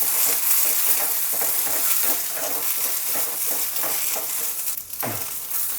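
Ingredients for coconut chutney roast in a pan on a stove with a continuous dry sizzle and frequent scraping stirs, steady and close throughout, with no voices.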